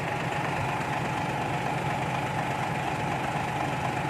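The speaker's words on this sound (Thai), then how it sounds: "อันนี้เสียงเครื่องก็นิ่มๆนะครับ" A modified truck engine idles softly and evenly, a steady low rumble holding at a constant level throughout with no voices over it.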